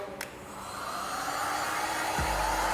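A heat gun warming a paint protection film car panel scratched with a screwdriver, its blower rising into a steady close airy roar after a click, no talk.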